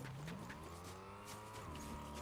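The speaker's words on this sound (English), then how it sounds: "Where's this car driving?" A car driving in the Fortnite video game, its engine hum running steadily at a moderate distance with a brief tire squeal, playing alone without speech.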